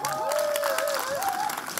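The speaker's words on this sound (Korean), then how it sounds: "박수!" An audience breaks into a short burst of applause at a talk about Hamyang Macheon black pork, mixed with cheering and a voice speaking over the clapping.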